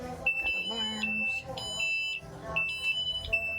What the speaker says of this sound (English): I'm gonna turn on the wing. Well, not the actual engine. Got alarms.